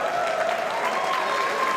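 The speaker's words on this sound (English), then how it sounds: "Can we have a cheer for Magnus?" A live crowd at a London speed chess final cheers and applauds loudly and steadily, a dense wall of clapping and shouting that fills the whole moment with no let-up.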